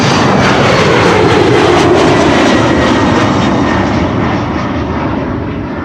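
An Embraer jet departs the Polderbaan runway at Amsterdam Schiphol in windy weather. Its engine roar is loud and close, a broad, steady rush that slowly fades as the aircraft climbs away.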